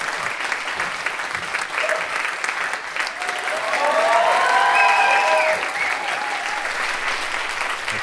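A college comedy roadshow audience gives steady applause for comedian Aidan Shields. The even wash of clapping swells slightly midway, with a brief voice or whistle heard over it.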